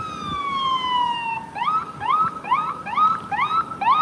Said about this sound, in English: they have let through the ambulance